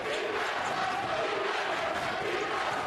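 A college basketball crowd in the Milwaukee cheering section roars and chants defense at a Milwaukee versus Green Bay game, a loud, continuous wall of voices with a commentator talking over it.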